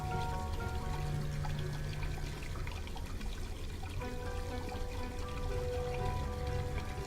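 Steady hot water running and pouring, from the video game Black Mirror II, a continuous even rush alone with a faint tonal hum, no voices.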